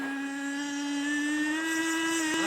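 A radio-controlled boat's small motor whines steadily across a bay, a close, bright tonal buzz that climbs slightly in pitch as it runs below half throttle.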